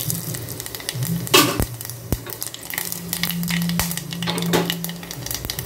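Whole spices such as cinnamon, stone flower, star anise, cardamom, cloves and fennel seeds hiss and crackle in hot oil, a steady close sizzle with a few sharp pops and faint utensil clinks, no voices.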